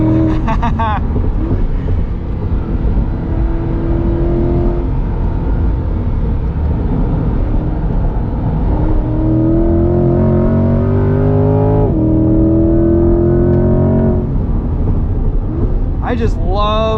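A 2021 Chevrolet C8 Corvette Z51 is driven hard on a track, its engine droning loudly with rising and falling pitch through gear changes. Someone talks over it at times.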